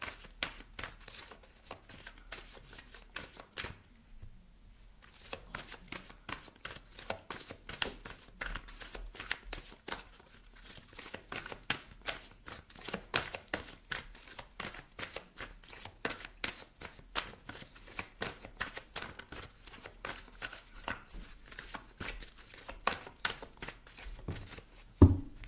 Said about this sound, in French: on va aller prendre une carte ici du tarot psychique de John Holland